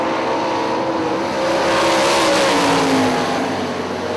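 Sprint race cars lapping Hartford Speedway Park, a loud continuous engine roar that swells and shifts pitch as the pack drives through the corners, close and steady throughout.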